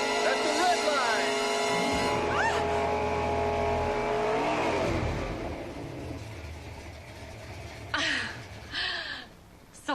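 A race car engine revs up toward its 11,500 rpm redline, a loud rising whine that climbs steadily and then fades, while people talk and someone gasps.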